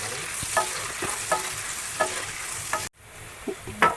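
Garlic, ginger pieces and salt frying in a pan for a prawn dish, stirred with steady scraping strokes about every second over a constant close sizzle, with a brief cut near the end.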